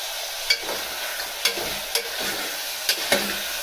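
Vegetables sautéing in a pan for sambar, a continuous soft sizzle broken by several sharp scrapes and knocks of stirring, with no talking.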